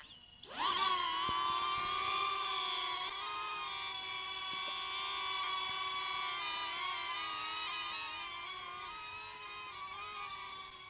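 A DJI Neo drone lifts off outdoors on a farm among apple trees, its rotors rising into a steady high-pitched whine with shifting harmonics that holds loud and close throughout, with no talking.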